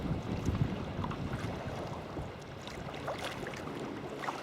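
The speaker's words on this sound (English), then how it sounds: "I've just been tickling paddle and just the wind's been blowing me hither and thither" Wind buffets the microphone while sea kayaking along a rocky North Sea coast, a steady, loud, rushing rumble with gusty swells and faint water sounds beneath.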